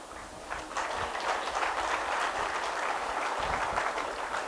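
Audience applause at a spiritual discourse, a steady dense wash of many hands clapping at moderate distance for the whole stretch, without talk.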